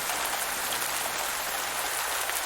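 Steady rain falls in a farming video game, a dense, even hiss of drops with no breaks, moderately loud and unaccompanied by talk.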